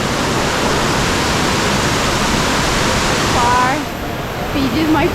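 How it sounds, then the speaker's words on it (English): Fiji Waterfall in north Bali roars as a dense, loud, continuous rush of falling water, filling the air up close, with a voice briefly heard near the end. "this is Fiji Waterfall"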